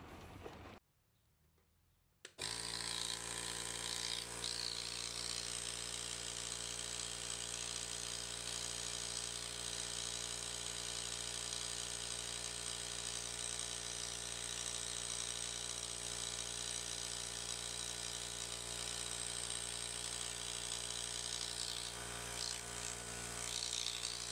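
Einhell Pressito hybrid compressor pumping a tyre from 1 to 3.5 bar, a brief quiet gap and then a sharp start into a steady, buzzing motor drone with a faint rattle that runs unbroken to the end.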